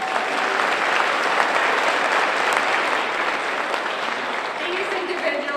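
A convocation audience on a campus applauds and cheers in a loud, dense, steady wash of clapping that carries evenly through the whole stretch.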